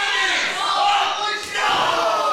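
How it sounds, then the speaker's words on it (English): A pro wrestling crowd at a live show yells and jeers loudly, a sustained roar of many voices that dips briefly midway and then surges again. "And crowd's getting mad."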